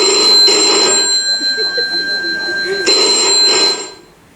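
A telephone rings twice in an indoor scene from a Turkish TV series, each burst of ringing loud and close, with a voice speaking in the gap between rings.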